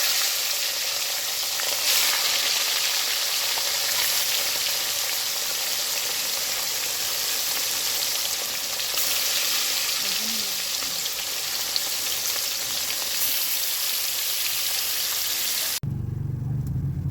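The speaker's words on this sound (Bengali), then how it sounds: "তেল গরম হয়ে গেছে হলুদ লবণ মাখানো মাছটি" Turmeric and salt coated shol fish frying in hot oil in a wok, a loud, dense, continuous sizzle close up that cuts off abruptly near the end.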